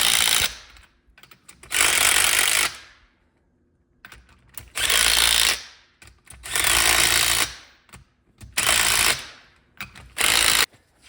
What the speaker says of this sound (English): Just going to work the ring gear up with a light impact so I don't stretch any bolts.